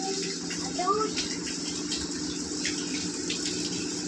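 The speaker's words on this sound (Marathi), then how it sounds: "आज ऋतू भाऊ सकाळ सकाळला झाडाला पाणी टाकत आहे." Water gushes steadily from a hose or tap onto a tree in the morning, a continuous close splashing flow, with talk over it.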